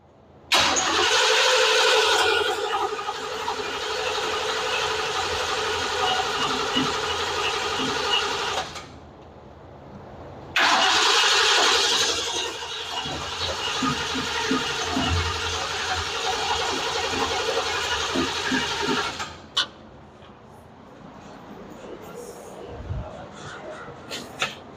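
A 1947 Ford COE truck engine cranks loudly in two long bursts of starter whirring, pausing briefly between them, and fails to catch, leaving quieter clicks and shuffling afterward.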